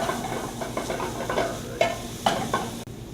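Chicken pieces sizzle and fry in oil in a pan over medium heat, a steady close hiss broken by several sharper crackles and stirring sounds, with no talking.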